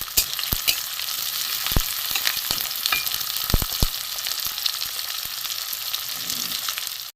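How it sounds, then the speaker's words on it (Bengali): Chopped onions and chopped green chillies fry in a pan for a panta bhaja dish: a continuous close sizzle, broken by several sharp spatula clicks and scrapes, with no talking. "পেঁয়াজটা একটু ভাজা হোক"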